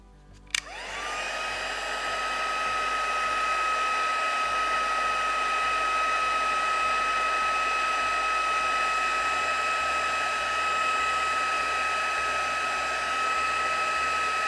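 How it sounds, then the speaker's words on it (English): A heat gun melting embossing powder for a unicorn dream catcher craft: a click, then a steady, loud fan-driven whir with a high whine that holds evenly for the rest of the clip, no talking. "And get the heat gun going."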